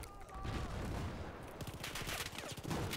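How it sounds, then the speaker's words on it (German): Gunfire comes in at the player in Battlefield 4 multiplayer on the Guilin Peaks map, dense rapid bursts and fusillades that are loud and continuous, with a tonal hum early on. "Ich werde beschossen."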